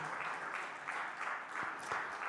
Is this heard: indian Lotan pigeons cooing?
no